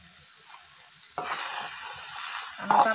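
A spatula stirs a ground peanut and niger seed mixture in a pan: quiet at first, then a sudden scraping sizzle that keeps going, with a louder clatter near the end.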